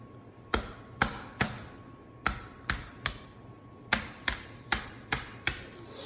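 Sharp metallic hammer strikes on a knife cutting through a lobster tail, about a dozen, in irregular clusters of two or three, fairly close and loud over a faint background hum.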